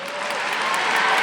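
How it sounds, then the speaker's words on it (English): Loud, sustained applause from a university commencement crowd, a thick unbroken roar of clapping that holds steady and swells slightly toward the end. "I want to hear a real loud applause for a great men's soccer team and chess team."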